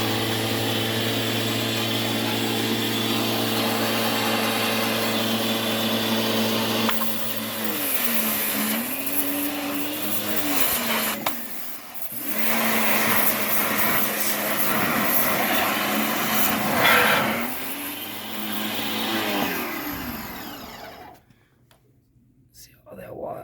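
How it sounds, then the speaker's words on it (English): A pressure washer blasts stains off white mesh shoes, giving a loud steady spray hiss that shifts in pitch as the nozzle moves, with a brief cutoff near the end. "your other hand will have the pressure washer in hand, and you'll be pressuring off those stains."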